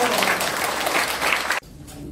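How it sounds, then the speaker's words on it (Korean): Audience at a lecture hall applauding to welcome the speaker, a loud dense burst of clapping that cuts off abruptly into quiet room tone. "조 선생님을 모실 때 여러분들 큰 박수로 환영해 주시기 바랍니다"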